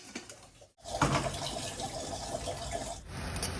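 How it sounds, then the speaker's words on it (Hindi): Water being poured into a cooking pot of toor dal seasoned with turmeric and salt, a steady splashing pour lasting a few seconds after a brief pause, fairly close and moderately loud. "इसमें पानी डाल दिया है"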